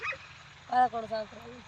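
A herding dog kept with a flock of sheep gives a couple of short, close yips or barks, following a brief bit of human voice.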